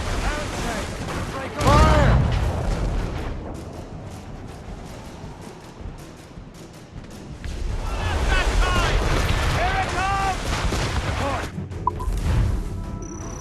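A ship's cannons fire in the Assassin's Creed Rogue video game: loud booming blasts and a longer rumbling volley, with shouted voices in between.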